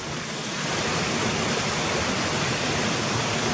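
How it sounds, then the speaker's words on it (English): Waterfalls pour down into a valley stream, a broad steady roar of rushing water close by, continuous with no voices. "It's nice where these waterfalls are coming down, look."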